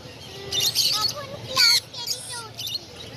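Caged birds at a bird market, including lorikeets, give bright, sharp chirps and tweets in several short bursts, with one louder squawk near the middle, over a low background murmur.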